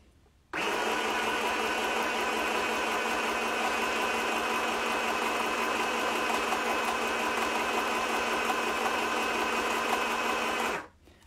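A SINGER M1000 mending machine stitches a zigzag in one steady, loud mechanical whir for about ten seconds, starting and stopping abruptly with no talking.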